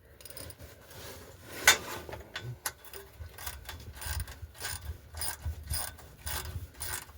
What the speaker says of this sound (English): you can just use the regular ratchet and socket.